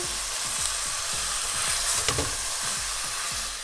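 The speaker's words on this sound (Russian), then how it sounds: "высыпаю сюда порезанное мясо. Снова перемешиваем." Chopped meat sizzles loudly in a pan with browning vegetables for soup, stirred in a steady rhythm of repeated scraping strokes over constant frying hiss, close and with no talking.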